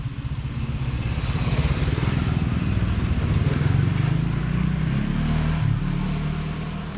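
A motorcycle engine runs loud and close, its throaty rumble swelling as the revs climb through the middle and then settling into a steady, slightly lower drone.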